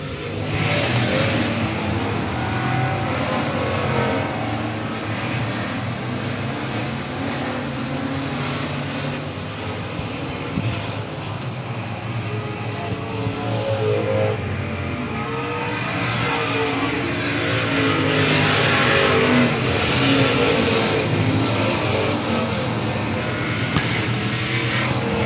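Race cars roar past continuously at South Texas Speedway in an October 2016 race, a loud, sustained engine drone that swells louder toward the end, with no talking over it.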